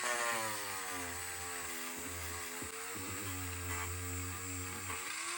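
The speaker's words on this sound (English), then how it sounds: "I use a felt wheel from the Dremel aisle and I load it up with wax" A Dremel rotary tool spins a wax-loaded felt wheel against the thin edge of a leather holster, giving a steady high motor whine with harmonic tones and a low hum that dips briefly at moments of contact.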